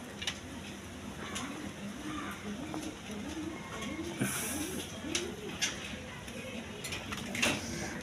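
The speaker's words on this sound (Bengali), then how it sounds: "এক পেয়ার শার্টিং কবুতর আছে হোয়াইট কালারের মধ্যে" White shirting pigeons coo in a repeated, rhythmic series of soft low calls, fairly close, with faint clinks and scattered bird noise around them.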